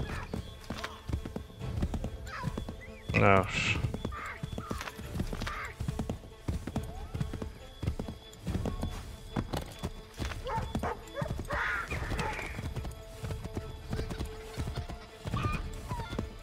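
Horse hooves clip-clop through a galloping run in Assassin's Creed III Remastered, with a sharp whinny rising near the middle, over steady game ambience and occasional brief talk.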